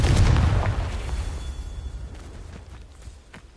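A Confringo fire spell bursts with a loud, close explosion in Hogwarts Legacy, a heavy boom that fades into a crackling rumbling tail with scattered small pops.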